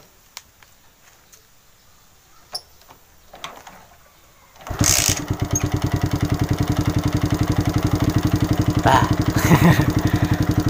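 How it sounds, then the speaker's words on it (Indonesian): A cold motorcycle engine, its spark plug cap removed, starts after a few faint clicks and then idles close by with a steady, rapid chugging pulse. "jadi motor bisa hidup tanpa cop busi karena dia masih dingin ya"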